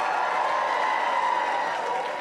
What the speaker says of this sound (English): let's stand up and we'll just clap for you